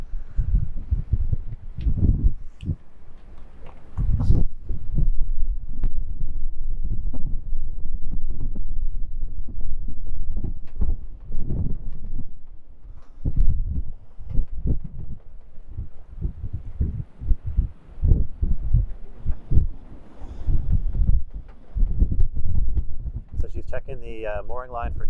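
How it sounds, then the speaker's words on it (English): Strong hurricane wind gusts buffet a moored sailboat, a continuous low roar and rumble with bursts and flapping knocks, loud and close throughout, with voices talking over it. "You can hear the wind is pretty intense out there."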